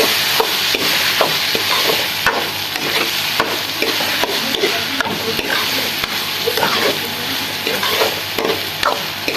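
Onions fry with red chilli, salt and turmeric in a pan, sizzling steadily while a spoon stirs and scrapes at a constant, close rhythm.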